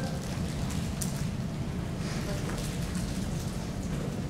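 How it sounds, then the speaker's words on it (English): Steady rain falls continuously as a dense, even hiss with occasional faint louder patters, heard from indoors with no voices present. "It's still raining."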